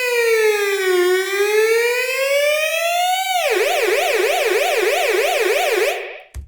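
Synthesized siren built in Logic with an LFO: a steady tone glides slowly up and down, then abruptly switches to a fast, loud warbling wail that runs continuously before cutting off.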